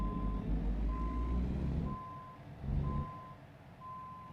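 A truck in American Truck Simulator sounds its reverse alarm, a steady tone beeping about once a second, five beeps over a low rumbling diesel engine that swells and fades.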